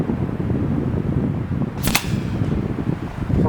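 A Kral 25 PCP airgun fires a 34 grain pellet outdoors, one sharp close crack over steady wind noise, with a faint second report following shortly after.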